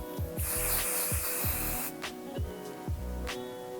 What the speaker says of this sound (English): Take some volume spray.